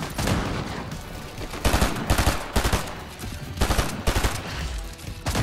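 Rapid bursts of gunfire in Fortnite, short volleys and single shots repeating over several seconds, loud and close, with no voices.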